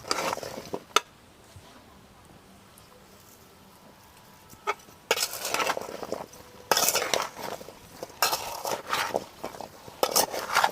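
Raw mango pieces mixed with salt using a ladle or spatula give a faint clink early on, then bursts of scraping and rattling against the pot that grow louder and come in several rounds, with a rooster clucking faintly nearby.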